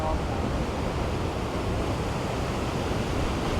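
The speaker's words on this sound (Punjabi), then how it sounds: "ਲੋ ਵੀ ਤੁਹਾਨੂੰ ਦਿਖਾ ਦਈਏ ਕਿੰਨੀ ਸਪੀਡ ਤੇ ਪਾਣੀ ਜਾ ਰਿਹਾ ਯਾਰ" A fast glacial meltwater river in Switzerland, full of snowmelt, rushes past in a steady, loud, broadband roar with no pauses, close by and unbroken.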